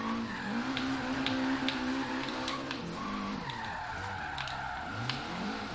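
A Nissan Silvia S14 drifting in the video game Forza Horizon 3, tires squealing and skidding in long wavering whines over a revving engine, close and continuous.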